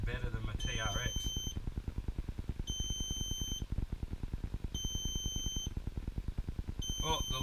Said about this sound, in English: the lost alarm's coming on because I haven't touched a button